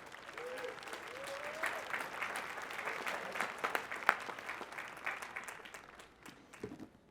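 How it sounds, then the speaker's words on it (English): A university commencement crowd gives a round of applause, heard as a fairly quiet, distant, sustained wash of clapping with a few voices mixed in. "Let's give them a round of applause for those who are not here"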